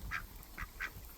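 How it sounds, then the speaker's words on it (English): Ducks at Paradise Creek give three brief, faint quacks in quick succession over a low background rumble. "Say hi to the ducks this morning."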